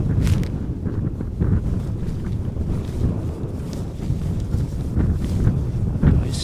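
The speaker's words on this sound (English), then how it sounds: "I see that the wind is causing my laptop then to move a bit back and forth" Gusty wind buffets a microphone outdoors during plane spotting at Amsterdam Schiphol Airport, a loud, rumbling low roar that swells and fades without speech.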